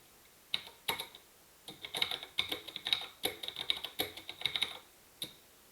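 Computer keyboard typing while a file is edited in vim, a close, crisp run of irregular key clicks in short bursts with brief pauses, no voices.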